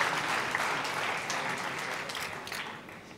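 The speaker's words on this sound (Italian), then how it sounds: "Un applauso anche per lui." Steady applause from an audience at a long-service award ceremony honours a recipient, moderately loud and continuous for a few seconds.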